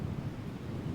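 Constant low roar of wind rushing past an outdoor tennis court during a match in Hobart, dense and steady, with no other sounds standing out.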